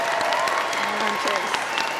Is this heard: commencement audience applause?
yes